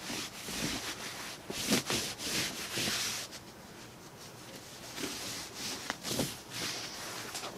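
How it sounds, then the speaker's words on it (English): Backing glue being rubbed by hand into a hand-tufted rug makes a quiet, close scrubbing and rubbing sound in repeated strokes of uneven rhythm, with no talk. "And then I really rub this all the way in."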